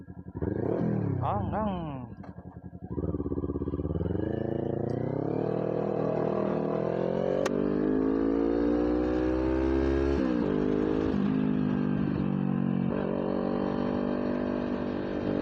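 A Kawasaki Ninja 400 engine revs hard and climbs in pitch, holding a loud, strained drone in low gear before easing briefly and pulling again.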